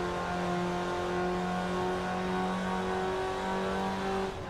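A car engine in Forza Horizon 4, heard from the interior cockpit view while heading to a dirt race, holds a steady, loud high-revving drone with rising tone for about four seconds before cutting off, with no talking.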